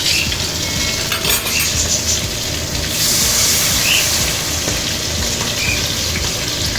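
Tamarind water is poured into a hot pan of tomato rasam with a dense, steady hiss of sizzling and bubbling, loud and close, with no voices over it.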